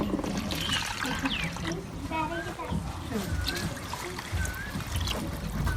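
Water poured into a pot of rice for chicken pulao, a splashing trickle that runs under continuous talking from the cook.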